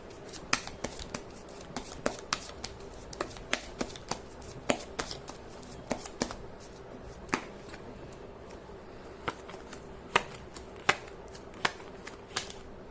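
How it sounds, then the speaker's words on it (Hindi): Tarot cards are shuffled by hand in a quick, uneven run of sharp riffling snaps and flicks, close and fairly quiet against a hushed room, with no talk. "मैं कर लेती हूँ कार्ड की शफलिंग।"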